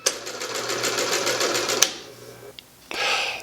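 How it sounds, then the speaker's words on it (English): A Singer 50D sewing machine runs steadily with a fast, even stitching rhythm, then its motor winds down briefly before whirring up again, heard close with no talking. "this lever acts like a clutch to engage the motor to the machine"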